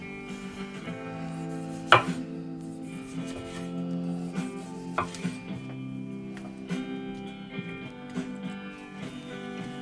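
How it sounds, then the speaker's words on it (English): Tomatoes are sliced roughly on a board, with irregular knife chops and taps over a low humming kitchen background, one sharper cut standing out early. "And then tomatoes. Again, I'm going to slice them fairly roughly."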